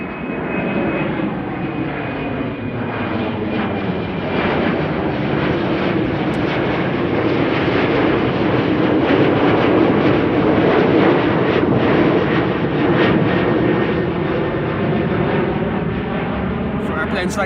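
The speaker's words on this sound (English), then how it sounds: "Another departure. KLM Embraer already high up." A KLM Embraer jet climbing out from Amsterdam Schiphol's Kaagbaan runway on a sunny day, a loud sustained engine roar with rumbling low end that swells slightly toward the middle and stays strong to the end.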